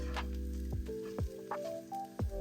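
A soft sizzle of mushrooms frying in a pan after onions, with a few gliding tonal sweeps and faint scrapes over the steady hiss.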